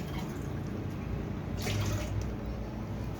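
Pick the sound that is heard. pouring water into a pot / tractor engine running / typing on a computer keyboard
pouring water into a pot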